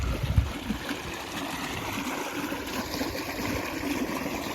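Water rushes and gurgles steadily from a solar-powered pump outlet, a continuous flowing splash with a low rumble underneath.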